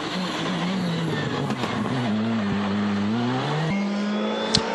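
A Skoda Fabia rally car drives a special stage of the Circuit of Ireland rally, its engine loud and droning as it revs up and shifts through gears, pitch climbing and dropping, close and continuous.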